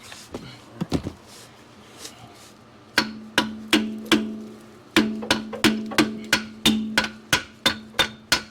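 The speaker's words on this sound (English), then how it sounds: "I'll have to get the hammer and screwdriver." Sharp metallic hammer strikes ring out against a stuck car axle on a Toyota Supra, a few scattered hits and then a steady run of evenly spaced blows, loud and close.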